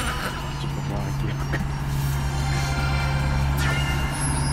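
A garbage collection truck passes outside, its steady low engine rumble and road noise running continuously beneath people chatting nearby.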